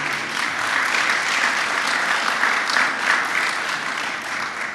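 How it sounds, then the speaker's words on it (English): A room full of people at a San Francisco police Officer of the Month award ceremony gives Mayor Breed a round of applause, loud, sustained, dense clapping that holds steady throughout. "round of applause for Mayor Breed, please"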